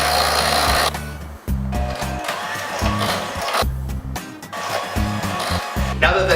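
An electric mixer churns cream cheese batter as mixed sugar and flour go in, a steady low motor whir broken by brief pauses and changes in pitch, close and fairly loud, with no talking.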